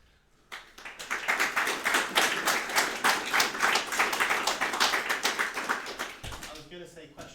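Audience at a Leeds Sharp lightning talk event applauds in a steady, fairly close burst of clapping lasting several seconds, tapering off at the end as a voice begins speaking.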